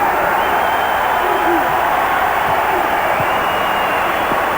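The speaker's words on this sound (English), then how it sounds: "Listen to this crowd here in Syracuse. They've adopted the Bulldogs." Basketball arena crowd in Syracuse during the 1983 NCAA East final between North Carolina and Georgia keeps up a steady, dense roar of cheering throughout, loud and continuous without clear breaks.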